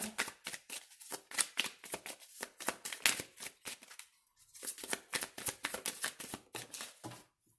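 Tarot cards being shuffled up close, quick riffling bursts in two runs separated by a short pause, crisp and papery.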